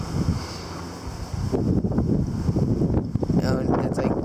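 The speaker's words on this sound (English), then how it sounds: "Really windy, not 30k for sure." Strong storm winds near tropical storm force buffet the microphone in heavy gusty roars, growing rougher and louder midway, with a person talking underneath.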